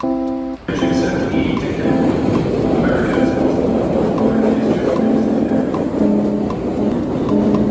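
A Boston subway train runs near the platform with a loud, steady rumble, recurring clicks, and tonal squeals and whines, close and continuous from start to finish.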